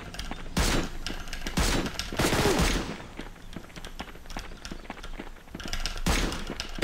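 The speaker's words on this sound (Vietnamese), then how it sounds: "sao bắn một đống hết thế mà nó không chết đâu" Rapid gunfire in a PUBG-style Minecraft game, including shotgun fights: clustered volleys of sharp reports burst repeatedly over a constant busy game background, with the densest flurries early and near the end.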